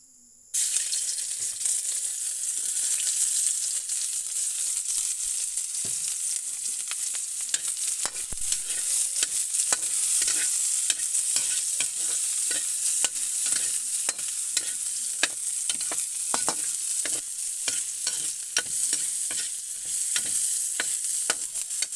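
Tofu frying in a pan, a constant bright sizzle with many sharp pops and crackles and repeated stirring scrapes, close and steady throughout.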